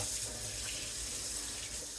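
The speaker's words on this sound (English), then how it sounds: "So first of all, what? Wash our hands." Tap water runs continuously into a kitchen sink for handwashing before baking, a close, steady splashing hiss with no voices over it.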